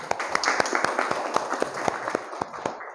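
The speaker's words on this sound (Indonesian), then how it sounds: "Beri tepuk tangan." A classroom of students claps together in brisk, uneven applause, a close and steady patter of hand claps with faint voices mixed in.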